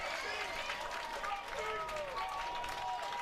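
Chatham Anglers baseball fans at a Cape Cod Baseball League game against the Bourne Braves clap and cheer in a steady crowd roar. Voices and whoops rise through it.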